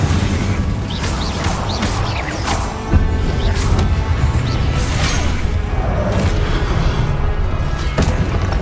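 Fire spells cast in the game Hogwarts Legacy, a dense run of whooshing bursts and booming impacts layered over continuous combat noise, with a sharper blast near the middle.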